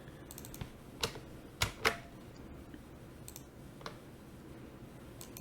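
Scattered key clicks from someone entering a database name, username and password on a computer keyboard, a few sharper presses among faint taps, close and quiet with no talking.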